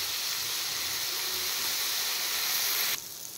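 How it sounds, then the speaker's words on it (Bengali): Brinjal fries in oil with salt and turmeric, giving a steady, dense sizzling hiss that stays level and close, then drops a little just before the end. "এবার আমি নুন আর হলুদ দিয়ে বেগুনটা একটু ফ্রাই করে নেব।"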